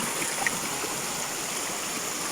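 A large mountain stream rushes steadily nearby, a broad, continuous wash of flowing water with no speech.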